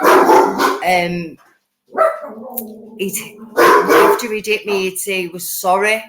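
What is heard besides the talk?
dogs barking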